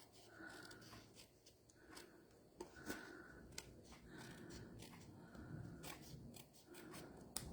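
Paper overhang trimmed from the edge of a handmade Stampin' Up card with scissors, giving a few soft, quiet snips and crisp paper sounds close by in a hushed room.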